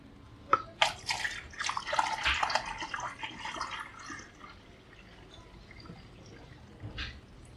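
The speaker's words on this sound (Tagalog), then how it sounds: "Punuin lang natin tong radiator ng tubig" Water pours into the radiator of a Montero Sport, splashing and gurgling most strongly over the first few seconds. The flow then tapers to quieter trickles, with a faint drip near the end.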